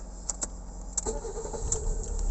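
A 1993 Fiat Panda Selecta 1.1 with an ECVT automatic gearbox: a few key clicks, then the engine cranks and catches, settling into a close, steady idle with no talk.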